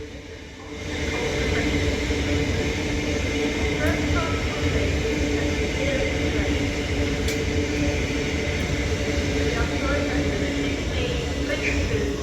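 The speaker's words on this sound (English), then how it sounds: "1614 Avanti West Coast service to London Euston from Chester and Holyhead with a double class 805" Two coupled Avanti West Coast class 805 trains roll through Stafford station on the West Coast Main Line, a steady, close rumble that holds for the whole stretch, with faint voices in the background.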